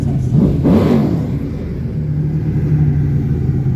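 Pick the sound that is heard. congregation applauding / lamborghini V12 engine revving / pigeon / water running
lamborghini V12 engine revving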